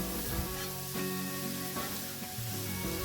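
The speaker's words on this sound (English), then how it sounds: "We're simply sauteing the Brussels sprouts in the leftover bacon grease that was left on the griddle top." Shredded Brussels sprouts sauté in leftover bacon grease on a large Blackstone griddle, giving a steady, close hiss of frying with no added oil and faint scraping stirs.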